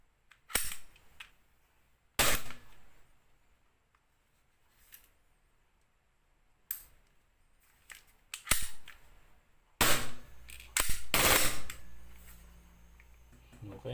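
A WE Glock 17 airsoft pistol fires several sharp, snapping shots close by, spaced irregularly with a quick cluster near the end, with quiet pauses between them.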